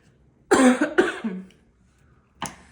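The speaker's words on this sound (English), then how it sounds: "I know it's not a good cough." Two harsh coughs close together near the mic, followed by a short pause and a third, fainter cough.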